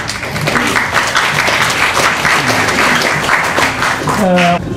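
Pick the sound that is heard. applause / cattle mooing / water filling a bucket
applause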